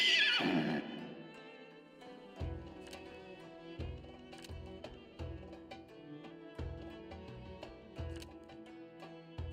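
Horse race in the video game Sultan's Game: a loud horse whinny opens, then steady galloping hoofbeats and clip-clop with periodic heavy thuds under game sounds, without talk.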